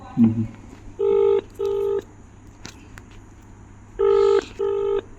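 A phone number being dialed: four bursts of touch-tone beeps in two pairs, clear and close, with a brief murmur of voice at the start.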